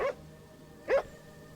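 Two short, fairly loud barks from a beagle in the video game Crimson Desert, spaced nearly a second apart over a quiet background.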